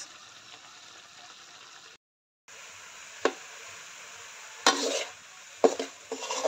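Alamang shrimp paste cooks in a pan, a steady close sizzle broken by a brief drop-out and a few sharp clanks of a utensil against the pan.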